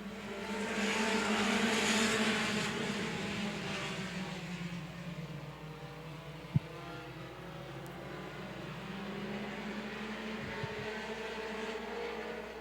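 Mini stock race cars roar around an oval at Angola Motorsport Speedway on a green-flag restart, a loud, steady engine drone swelling and fading with passing cars, one sharp knock partway through.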